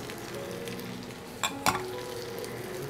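Vegetables are stirred into frying dal, with a steady sizzle in the pan and two sharp, louder clatters close together near the middle as the ingredients go in and get moved around.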